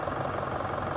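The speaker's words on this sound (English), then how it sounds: "This engine is so quiet for a diesel." A brand-new diesel pickup engine idles steadily and quietly, a low even rumble with a faint knock, close by and alone.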